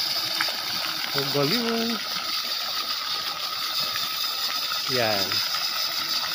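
Lit swimming pool fountain gushes in a steady loud water rush throughout, with people briefly talking over it.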